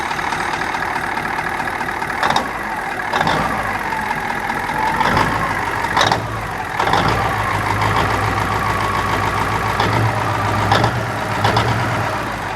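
An old big power truck engine runs with a noisy AC compressor clutch, giving a steady idle rumble and whine broken by sharp, repeated clanking knocks every second or so.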